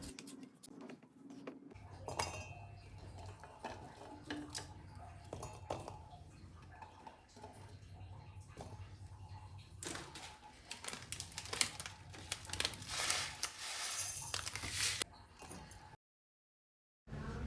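A knife cuts through small whole new potatoes, giving soft, irregular tapping clicks that grow denser and sharper in the middle stretch, fairly close and quiet, with no talking.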